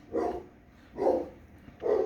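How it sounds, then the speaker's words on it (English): Dogs give three loud, deep barks in a slow, regular rhythm, close by and not under talk, with quiet gaps between them. "Sorry about the dogs."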